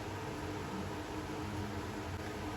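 A steady, loud whirring grind runs continuously throughout, a kitchen mixer grinder grinding onion, tomato and curry leaves at full speed with no pauses or voices.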